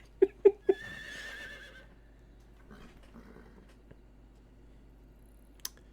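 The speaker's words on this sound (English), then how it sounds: "We have a horse now." Horse neighing in the Metal Gear Solid Delta video game: three quick loud snorting bursts followed by a rising whinny, close and clear, then fading into quiet background with a faint click near the end.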